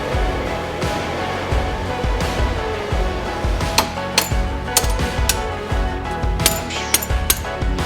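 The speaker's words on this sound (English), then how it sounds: "So we put a spanner on it and tap it that way." A hammer taps a spanner to free a seized part on a project car, giving sharp metallic knocks that start irregularly midway and grow more frequent over a steady background rumble.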